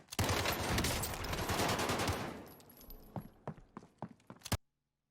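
Gunfire in the video game Warzone: a dense burst of automatic fire, then a string of sharper single shots and quieter, scattered cracks before it cuts off.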